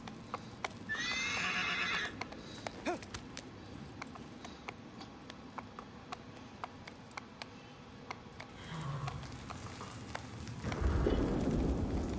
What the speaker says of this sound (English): That poor horse must be terrified.